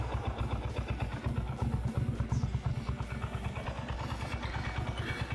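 A 1999 Ducati Monster 600 idles with its characteristic dry clutch rattle, a lumpy, pulsing engine beat under a metallic jingling clatter. It sounds close and steady, with no voices.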